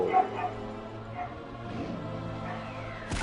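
Small dog barking and yipping in short excited bursts close by, with a whimpering quality, heard indoors during a Ragnarok Classic game session.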